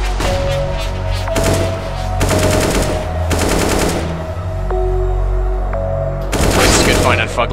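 Automatic AK rifle fire in a CS:GO match at ESL One New York 2018, coming in several loud bursts of rapid shots with a commentator talking over and between them.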